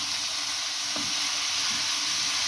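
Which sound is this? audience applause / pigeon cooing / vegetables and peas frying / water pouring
vegetables and peas frying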